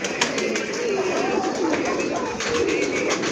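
Pigeons coo repeatedly in soft, throaty bursts against a steady background hiss, with several birds overlapping close by.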